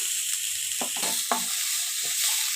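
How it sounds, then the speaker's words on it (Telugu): Ginger garlic paste sizzling with onions in a pan for a gongura meal maker curry, a steady bright frying hiss broken by a few scraping stirs from a spoon, close and alone. "ఉల్లిపాయలు వేగిన తర్వాత కొద్దిగా అల్లం వెల్లుల్లి పేస్ట్ వేస్తున్నాను."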